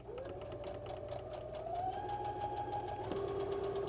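A sewing machine stitching quilt fabric runs with a steady, rapid mechanical whir and a rising motor tone that settles into an even hum, close and clear, with faint talk in the room.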